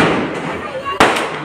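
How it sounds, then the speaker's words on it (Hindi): A single sharp firecracker bang, loud and close, following a stretch of background noise with a few faint pops, during Diwali. "अब दूसरा पटाखा बजने वाला है"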